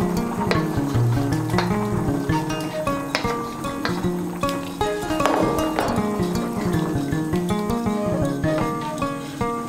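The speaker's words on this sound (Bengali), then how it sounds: "এখন আমি এর মধ্যে দিয়ে দেব ভেজে রাখা পনিরগুলো।" Fried paneer pieces going into a simmering potato and paneer curry in a pan, a steady wet sizzle with stirring and clattering under a thick, continuous bubbling.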